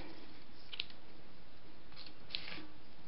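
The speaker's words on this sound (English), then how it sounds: "I would cut another piece of my ribbon." Scissors snip a piece of ribbon while tying a bow, giving a few short, crisp clicks close by over a steady background hiss, with no talking.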